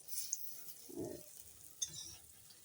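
Lentil fritters frying in oil are turned one by one. A faint, soft sizzle runs under light spatula scrapes and a couple of small metallic taps.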